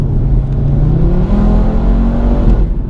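A 2018 Audi RS3 engine, tuned to about 510 bhp, revs hard and climbs in pitch as the car accelerates, loud and close.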